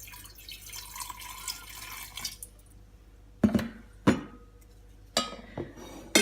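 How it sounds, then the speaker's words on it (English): Water poured into a glass jar while making water kefir: a soft running trickle at first, then several sharp splashing pours and glassy knocks, quiet and close, with no talking. "we'll add some water to the jar first"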